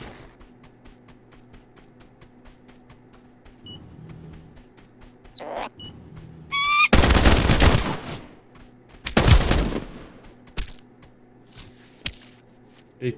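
Bursts of enemy SMG fire in the video game Escape from Duckov: two dense, loud automatic volleys a couple of seconds apart, preceded by scattered quieter clicks and game sounds, with no talking.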